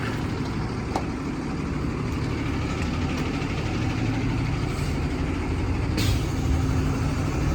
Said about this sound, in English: Ruben's just moving the Bowser up, so we're going to go through this tank.